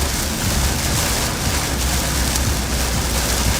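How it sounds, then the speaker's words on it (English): Hail and rain beat steadily on a car during an Arkansas storm, a dense, loud, continuous patter with no speech. "Had some little tiny hail hit the car from time to time."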